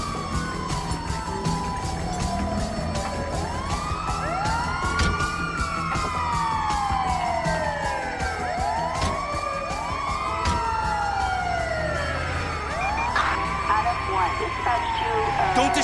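A wailing ambulance siren in GTA V sweeps up and down in repeated loud arcs over engine noise, with voices talking beneath it throughout.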